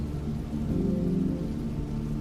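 Steady rain ambience, a dense continuous hiss of falling rain with low rumbling underneath, even in loudness throughout and with no voices.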